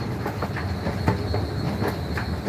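Eglinton Crosstown LRT train in Toronto running on its opening day, heard from on board: a steady close rumble with rhythmic clickety-clack of wheels over rail joints and a faint high squeal.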